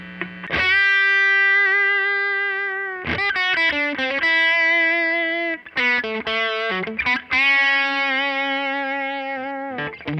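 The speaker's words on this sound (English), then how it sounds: "Let me try this through the distortion" A Fender electric guitar played through heavy distortion, sustained chords and short choppy bursts, loud and close, with brief gaps between phrases.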